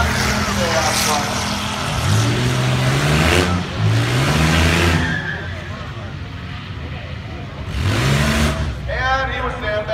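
Cars launching at a drag strip during a budget hooptie race event, a Monte Carlo pulling ahead: loud roaring engines rising and fading in bursts, with an announcer talking over them.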